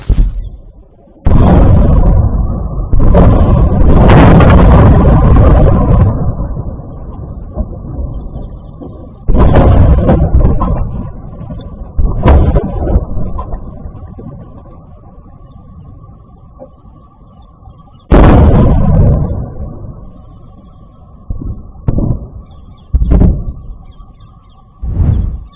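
Repeated missile impacts from Iranian strikes, including Khaibar missiles, land across Israel, with loud booming blasts and rumbling bursts in several clusters, some sharp cracks and long decaying roars between them, no talk.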